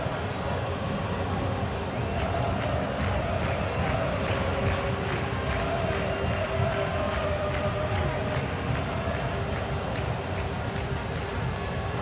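Stadium crowd noise in a PES 21 football video game match, a dense, steady roar of cheering and chanting that holds at an even level throughout, with no clear peaks.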